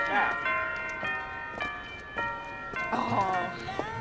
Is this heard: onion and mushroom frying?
no